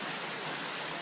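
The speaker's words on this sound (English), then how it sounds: "This little fountain you see here doesn't use a pump." A small pump-free, gravity-fed park fountain gives a steady, soft, even rush of flowing water, continuous and faint with no other sounds.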